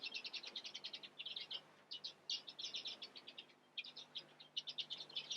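Cinnamon cage birds in a breeding pen chirp in quick bursts of high, bright tweets, several birds overlapping in close, busy clusters with short pauses between, fairly faint overall.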